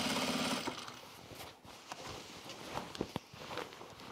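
A sewing machine stitches a replacement waistband on jeans in short bursts, with a whirring run at the start and then quieter, uneven needle thumps and fabric handling up close.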